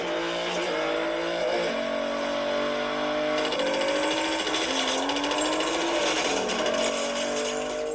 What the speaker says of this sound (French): En entrant dans un tunnel, il accélère brusquement et dépasse quelques voitures.